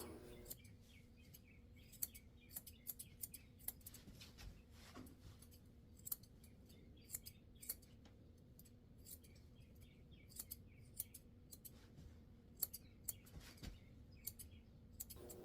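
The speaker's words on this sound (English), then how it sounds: "I'm just trimming around his ears real quick just to get the bulk of the hair off." Small grooming scissors snip around a poodle mix's ears, giving quiet, irregular clicks scattered across a faint background with no talking.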